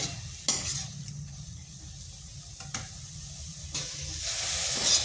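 Carrot stirred in sugar syrup in a pan as it cooks down to dry, for sweet patishapta pitha filling: steady close scraping strokes over a soft sizzling hiss, with a few sharper clinks.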